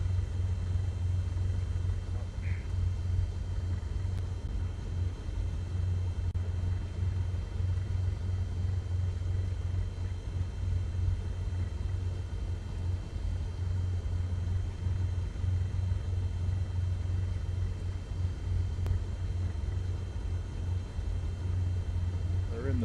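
A Cessna 172 with glass cockpit idles in Flight Simulator 2024, its engine a steady low droning rumble that holds constant throughout, fairly quiet and even.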